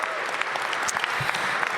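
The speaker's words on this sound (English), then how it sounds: "Give them a round of applause." An audience at an arena event applauds the Washington Wizards players, a steady spread of clapping with a few sharper individual claps standing out.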